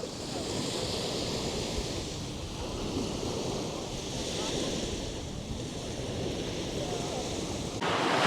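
Sea breeze and waves on Budva beach, Montenegro: a steady wash of surf mixed with soft wind rumble, continuous and moderately distant, rising slightly at the end.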